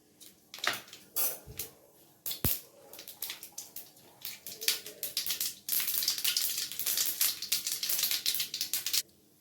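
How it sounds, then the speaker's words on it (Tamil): Mustard seeds spluttering in hot oil, a dense burst of sharp close pops and crackles that builds from scattered snaps into rapid continuous popping. "எண்ணெய் காஞ்சதும் கடுகு போடணும் கடுகு பொரிஞ்சதும்"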